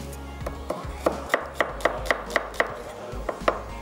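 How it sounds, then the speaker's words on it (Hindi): A knife slices through a single onion on a board, about a dozen crisp, evenly spaced cuts in a steady rhythm, close and clear with no talking. "हमने प्याज जो लेनी है 1 अदद, और इसको कर लेंगे स्लाइस"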